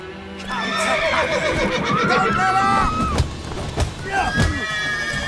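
A horse neighs and whinnies repeatedly in Witcher 3 Wild Hunt, loud and close, with rising and falling calls over hoof and rustling noises, and a voice briefly overlapping.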